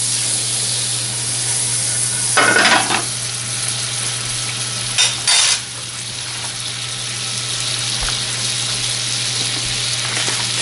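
Butter sizzling in a hot pan with cumin, a steady loud frying hiss with a few sharper bursts of spitting partway through.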